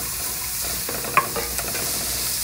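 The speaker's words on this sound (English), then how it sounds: "You put the onions in first. And we're gonna cook them until they're translucent." Onions fry in a pan as the base for a chanterelle mushroom risotto, giving a constant close sizzle with a few quick stirring scrapes and one sharp clink near the middle.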